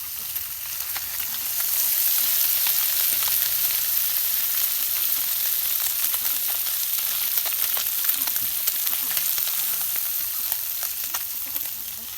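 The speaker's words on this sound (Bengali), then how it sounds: "এই যে দেখেন পুঁটি মাছ কীভাবে আলাদা ভাজে" Small fresh river puti fish fry in hot oil, a dense continuous sizzle that swells after the first seconds and holds steady with fine popping crackles, close and loud.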